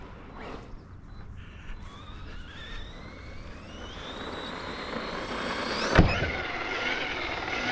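A Team Associated Rival MT10 RC monster truck driving, its electric motor whining and rising in pitch as it speeds up, with a sharp knock near the end and continued motor noise afterward, no talk.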